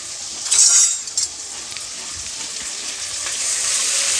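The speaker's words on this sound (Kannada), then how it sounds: "ಈರುಳ್ಳಿನ ಹಾಕ್ಕೊಂಡ್ಮೇಲೆ ಒಂದು ಎರಡು ನಿಮಿಷ ಚೆನ್ನಾಗಿ ಫ್ರೈ ಮಾಡ್ಕೊಳ್ಳಿ" Finely chopped onions sizzle in a pan, a bright steady frying hiss with a louder burst and a couple of utensil clinks early on, close and continuous, with no talking.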